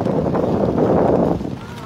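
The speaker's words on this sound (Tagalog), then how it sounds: "Lumalakas na rin yung hangin." Strong typhoon wind by the Marikina River rushes and buffets the microphone in a loud, continuous roar that eases slightly toward the end.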